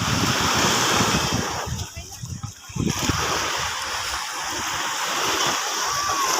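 Ocean waves surge and break on the beach at Khao Phlai Dam, a broad rushing roar with a brief lull partway through, buffeted by wind noise on the microphone, with people's voices mixed in.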